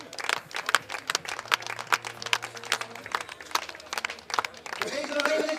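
Audience applause at a sheep breeding show in Groningen-Drenthe, a sustained patter of many hands clapping for several seconds under a low background hum, with crowd noise swelling near the end.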